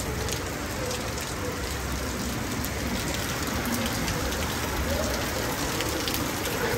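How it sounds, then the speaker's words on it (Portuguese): Steady rain falls in August in São José do Egito, a dense, even hiss of drops on surfaces that continues unbroken and fairly close. "pleno mês de agosto aí chovendo"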